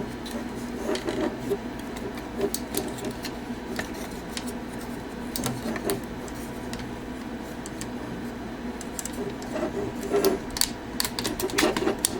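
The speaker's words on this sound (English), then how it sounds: "I apologize for all that scraping sound for his legs" A Cyber-Factory CF01 Star Storm Starscream toy robot figure having its legs repositioned, producing repeated short scraping and clicking plastic sounds in irregular bursts, close and moderately loud.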